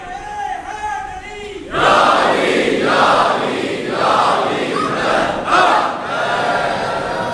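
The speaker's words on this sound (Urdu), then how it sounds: "آج بڑے آرام سے آپ نعرہ حیدری لگا دیتے ہیں" A large crowd at a religious procession roars a loud collective slogan in repeated surges, each call rising into a wall of massed voices that fills the space, with brief dips between bursts.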